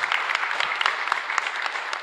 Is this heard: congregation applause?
yes